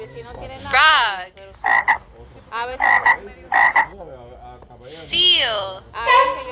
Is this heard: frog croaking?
yes